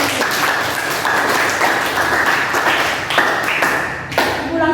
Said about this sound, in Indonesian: tepuk tangan untuk pertanyaannya